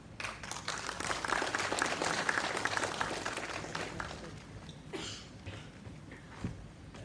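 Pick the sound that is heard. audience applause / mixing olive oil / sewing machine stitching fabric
audience applause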